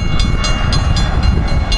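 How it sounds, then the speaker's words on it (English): An Amtrak Empire Builder passenger train rolls past at Glenview, a loud, close, continuous rumble with regular wheel clicks on the rail joints repeating every quarter second or so. "Amtrak. Outbound Empire Builder"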